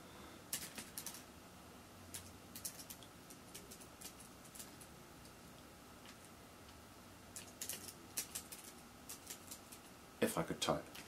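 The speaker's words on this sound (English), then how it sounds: "And then I can just simply type on the keyboard." Someone types on a keyboard linked to a phone over MHL, producing scattered bursts of close key clicks with pauses in between and a denser flurry near the end.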